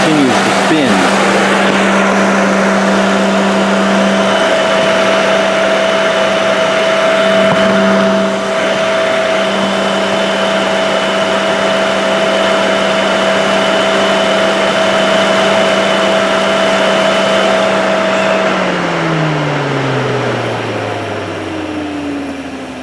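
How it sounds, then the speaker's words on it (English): A 2009 Ford Crown Victoria P71 engine idles steadily with a loud, even drone and whine, then is switched off near the end, its tone sliding downward as it winds to a stop. "I'll shut the engine off and you'll see it continues to spin."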